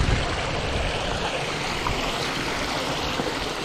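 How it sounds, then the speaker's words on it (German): A rushing, swollen stream at the Eckerloch below the Brocken during a rainstorm in December, a loud continuous roar of turbulent water, close and alone. "Reißender Fluss"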